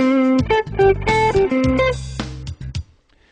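An electric guitar plays a major arpeggio built on a three-note motif, with clear plucked notes stepping through a short phrase, loud and close, then ringing out to near silence.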